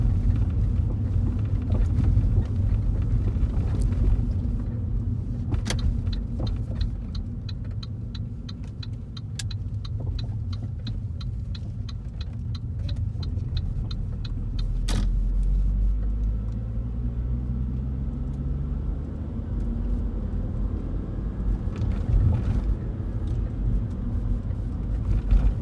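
A car with a worn clutch drives along a road, its engine giving a steady low rumble throughout, with a faint ticking and a deeper surge midway as it works toward a garage.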